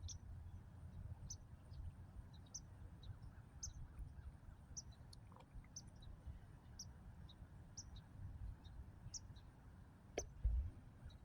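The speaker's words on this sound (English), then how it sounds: "if you can hear the birds and everything like that that's surrounding me" Small birds chirp outdoors in short, evenly spaced high calls, faint and distant over a low background rumble, with a brief thump near the end.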